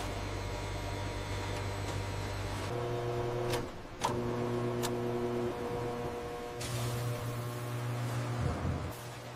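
A large industrial meat mixer in a beef ball factory churns beef paste with a loud, steady mechanical drone and whine, its pitch shifting in stages, with a brief clunk partway through and no voices.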